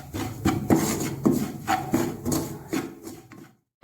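Besan (gram flour) roasts in a pan while being stirred constantly, giving close, dry scraping strokes that repeat in a steady rhythm, about eight in a row, then stop.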